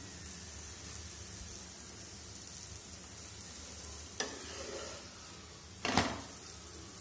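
An aloo paratha cooks in butter on a hot pan, making a soft, continuous sizzle with a steady hiss, broken by two brief, sharper bursts as the bread is pressed or turned.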